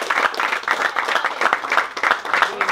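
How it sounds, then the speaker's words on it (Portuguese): A crowd at a rap battle final in Guarulhos claps and cheers for the champion, a close, dense round of applause with rhythmic pulsing and some voices mixed in. "só salva de palmas pro moleque aí"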